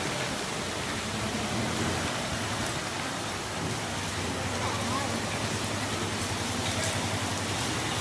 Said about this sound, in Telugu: ఈ వర్షం చూస్తుంటే నాకు ఎంజాయ్ చేయాలని ఉంది